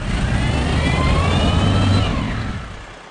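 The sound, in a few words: windrow turner truck engine at a compost site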